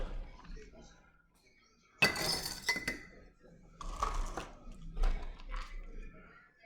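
Mushroom spawn is scraped through a funnel into a glass jar, making bright glassy clinks and gritty rattling scrapes in several bursts, close up, with a little handling noise between them.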